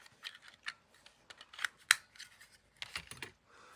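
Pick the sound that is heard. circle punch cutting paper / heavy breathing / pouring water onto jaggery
circle punch cutting paper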